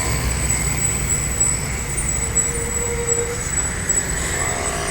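A convoy of buses on the West Sumatra route passes along a roadside, a steady mid-distance roar of engines and tyres with traffic noise and no voices.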